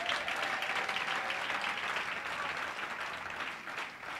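A church congregation at a consecration ceremony applauds steadily to acclaim the Lord, a dense, sustained wash of clapping that tapers slightly toward the end.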